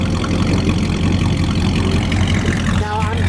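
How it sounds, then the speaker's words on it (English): A white 1969 Dodge Coronet 500 convertible with a 318 V8 and single exhaust idles steadily and smoothly up close, a continuous low rumble without revving. "I'm guessing that it did not come with dual exhaust, but it sounds great"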